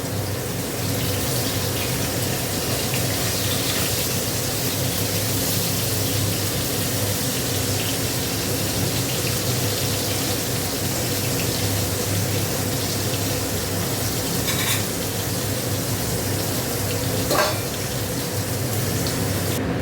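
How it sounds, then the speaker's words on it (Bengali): Fish rubbed with salt and turmeric fries in hot oil, giving a loud, steady, hissing sizzle that holds evenly for about twenty seconds with no talking. "দেখো মাছগুলো নুন হলুদ মাখিয়ে ভেজে নিচ্ছি।"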